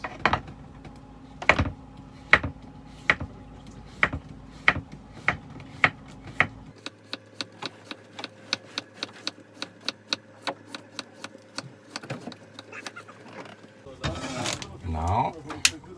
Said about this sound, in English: Now we cut the zucchini, very thin slices.